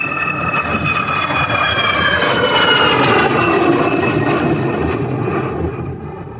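A fixed-wing airplane's engines roar steadily as it departs from an airport gate, loud and sustained with a rising whine, then easing slightly at the end; no voices.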